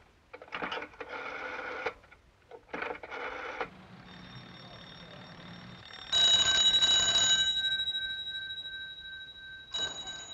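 An old telephone rings in repeated bursts, loud and near. Each burst is a double ring, followed by a sustained electronic tone and then a fresh burst. No speech is heard.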